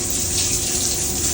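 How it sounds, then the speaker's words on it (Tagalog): Water steadily running and splashing from a leak in a ceiling, a continuous close hiss with no talking. "Di may tumutulo talaga"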